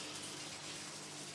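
Tap water gushes in a steady, loud, unbroken stream as raw chicken livers are rinsed under it in a home kitchen.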